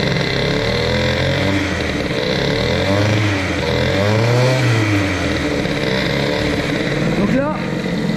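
A Fox Origine moped with a Boost cylinder head runs close by as a two-stroke. It holds a buzzing idle broken by several short rising and falling revs, and someone speaks over it.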